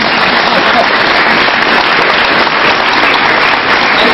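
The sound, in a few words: audience applause for comedian's wife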